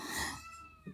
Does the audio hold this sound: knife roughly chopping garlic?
no